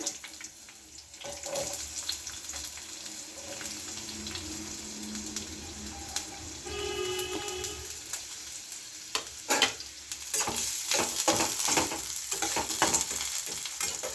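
Finely chopped onions frying in white cooking oil, a bright continuous sizzle with stirring scrapes and a few clatters, close and steady with no voices.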